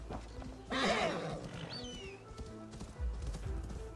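Clip-clop of hooves with a horse whinny rising midway, set against a busy Assassin's Creed Valhalla game background of low tones and faint ambience.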